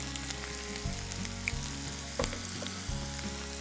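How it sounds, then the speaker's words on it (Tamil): Onions sizzling steadily in a hot pan for a vermicelli biryani, a close, continuous frying hiss with a few soft stirring knocks and no talk. "இப்போ வந்து நான் வெங்காயம் ஆட் பண்ணிட்டேன்"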